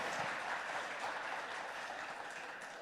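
Faint, steady applause from an audience at a televised conference event, a soft continuous patter of clapping heard from a distance with no voices over it.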